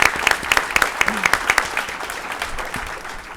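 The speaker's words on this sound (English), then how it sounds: "I think that deserves a huge round of applause" An audience at a school board meeting breaks into a burst of clapping, dense and close at first, then thinning and fading over a few seconds.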